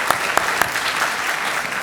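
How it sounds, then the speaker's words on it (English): An audience at a senior awards and cording ceremony applauds the senior class advisors, dense sustained clapping with a few sharper individual claps standing out. "if we can give them a round of applause"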